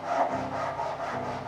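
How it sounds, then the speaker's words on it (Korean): A hand saw rasps through a wooden workpiece in a few steady back-and-forth strokes, close and even in loudness, with no voices. "우리는 뒤를 보지 않고 하는 톱질이죠"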